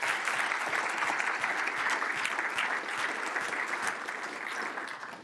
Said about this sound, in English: let's just give a quick round of applause to everybody.